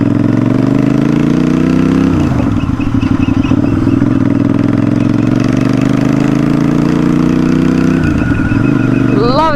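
A custom Royal Enfield Interceptor 650 twin-cylinder motorcycle engine running close by, with a loud, steady throbbing idle and two brief revs that rise and fall, free of talk.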